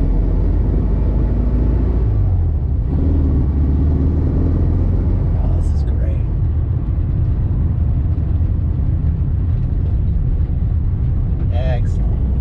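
A 1971 Volkswagen Super Beetle with an upgraded urethane suspension kit out on a drive, giving a steady, loud, low engine and road rumble heard from inside the car.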